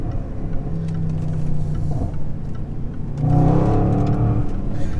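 A Range Rover SVR engine revving and accelerating, a deep steady drone that swells louder with a rising growl partway through, heard from inside.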